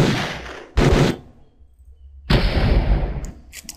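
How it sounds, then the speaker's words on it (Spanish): Stock war sound effect: a sharp loud blast followed by a pause, then a longer roaring burst of gunfire or explosion that trails off, with no voices. "Y sonidos de guerra, que son estos pocos de aquí."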